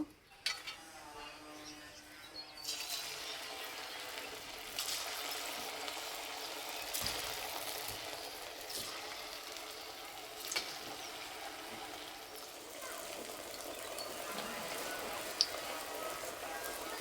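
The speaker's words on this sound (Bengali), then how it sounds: "নাস্তাগুলো ভাজার জন্য তেল খুব ভালো করে গরম করে নিয়েছি" Semolina and potato snacks fry in hot oil, a continuous crackling sizzle like patter on a surface that swells after a few seconds and runs on steadily, with a few light clinks of a utensil.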